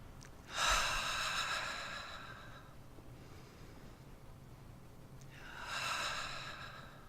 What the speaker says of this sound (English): Let's take several slow, deep breaths together, breathing out audibly.